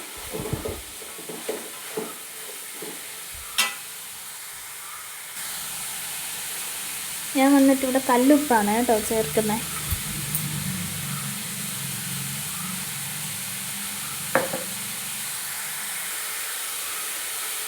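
Onions fry in a pan, sizzling and hissing steadily, with a speaking voice briefly over it and occasional clinks of a utensil.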